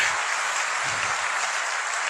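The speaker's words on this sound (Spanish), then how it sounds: "Si va a aplaudir a Jehová, hágalo con toda su fuerza" A church congregation claps together in a loud, continuous wash of applause that fills the whole moment without pause.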